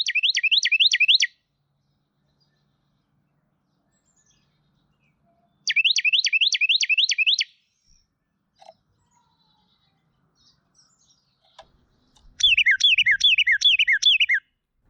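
Carolina wren songs ring out in three loud bursts of rapid, rolling repeated phrases, separated by quiet gaps with a few faint scattered sounds between them.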